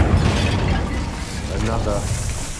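Incendio fire spell cast in the game Hogwarts Legacy, a dense, loud roaring burst of flame that fills the moment with a rumbling, crackling whoosh and no clear pauses.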